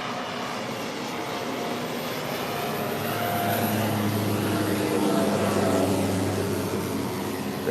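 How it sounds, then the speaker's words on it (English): A seaplane passes close by, its engine drone swelling steadily as it goes past, heard over broad wind and ambient noise at a cruise port in Juneau, Alaska. "here comes an airplane"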